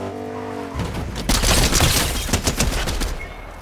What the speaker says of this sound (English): I just blasted one shot at him with my thermal DMR